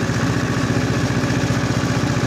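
A tractor pulling a rotary tiller runs with a steady, fast-pulsing engine drone, loud and close, held constant throughout with no voices.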